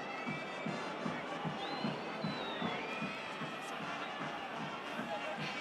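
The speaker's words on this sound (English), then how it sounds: "And the crowd, you can hear, not happy with those tactics." Rugby stadium crowd at a France Top 14 match between Pau and La Rochelle, a continuous roar with rhythmic chanting pulses and whistles, voices murmuring within the dense crowd noise.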